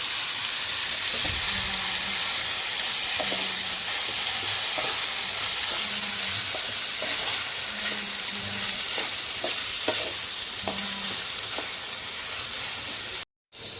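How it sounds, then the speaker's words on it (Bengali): Rice frying in a pan for basanti pulao, a steady loud sizzle running throughout with repeated scraping knocks of stirring at a regular pace, no voices. "এবার চালটাকে ভালো করে ভাজবো।"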